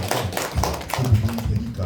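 An audience claps hands in a seminar setting, a quick run of irregular claps heard fairly near over a low murmur of voices.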